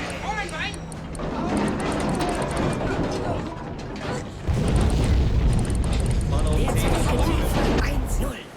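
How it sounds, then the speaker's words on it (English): Heavy underwater explosions boom in the submarine game Silent Hunter 3: a rumbling blast swells, then a second, louder deep roar hits and sustains, with a voice talking over it. "Those were big booms, but we got it."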